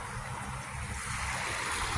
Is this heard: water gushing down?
yes